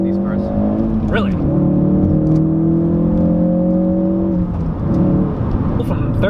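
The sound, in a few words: 2017 Ford Focus RS accelerating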